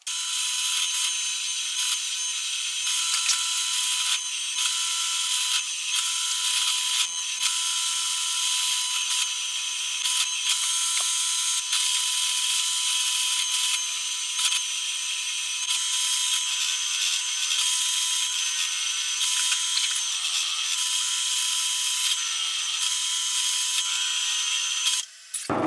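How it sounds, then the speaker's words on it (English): A drill press hogging out wood with a Forstner bit for a Precision Bass body, giving a continuous high-pitched whine and grinding hiss that stays loud and steady throughout. "I can take this to the drill press and start to hog out some of this material with a Forstner bit."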